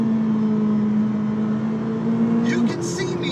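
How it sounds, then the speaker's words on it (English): A McLaren 720S engine hums steadily behind the cabin, then its note drops abruptly as a paddle gear shift clicks through, with a brief mechanical click near the end. "You can see me pull the paddles and you can hear the engine in the back change note."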